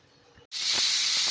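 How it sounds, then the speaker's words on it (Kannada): Pressure cooker on a stove with ghee rice inside lets out its whistle: after a brief quiet dip, a loud, sustained hissing steam blast bursts out and holds steady to the end. "ಈಗ ಕುಕ್ಕರ್ 2 ಕೂಗ್ತಿದೆ"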